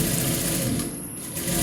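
A sewing machine stitches along the edge of a maxi dress, running the lining and main cloth together in one steady, close, continuous whir that dips slightly in the middle.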